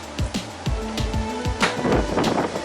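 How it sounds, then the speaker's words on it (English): Gusty wind buffets a microphone outdoors beside a car under repair, with low rumbling thumps and broadband rushes that come and go across the whole stretch. "sorry about the wind."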